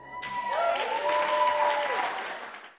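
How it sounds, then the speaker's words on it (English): A crowd breaks into applause after a brief quiet start, the clapping swelling into a full, sustained ovation with a sliding whistle-like tone riding over it before fading out. "Low standing clap"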